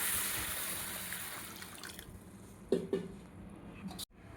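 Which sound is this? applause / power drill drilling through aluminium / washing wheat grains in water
washing wheat grains in water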